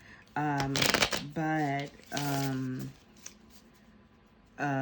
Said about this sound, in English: I'm going to shuffle it back in and then cut.